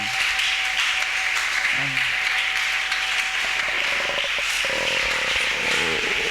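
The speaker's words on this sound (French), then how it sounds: "est-ce qu'on peut bénir le Seigneur par les acclamations?" Church congregation applauding and cheering to bless the Lord during a French-language sermon, a dense, steady wash of clapping and crowd noise that holds loud throughout.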